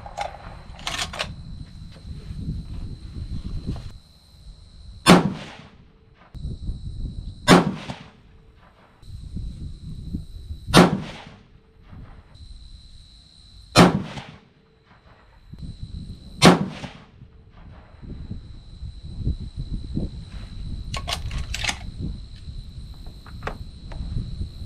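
Five loud, sharp .300 PRC rifle shots loaded with Retumbo powder and Hornady A-Tip bullets, fired outdoors at a range a few seconds apart, each a crisp crack with a short decay, with insects chirping steadily in between.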